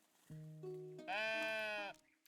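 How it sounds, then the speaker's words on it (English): A sheep in the video game Tiny Glade lets out a clear bleat in two rising stages, the second brighter and louder, over a quiet background. "A sheep. Okay, that's cute."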